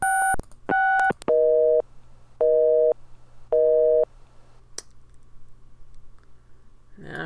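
A telephone busy signal in the Gabriel Knight video game: a few dialing tones, then three evenly spaced busy beeps, clear and close, followed by a faint low hum and a click.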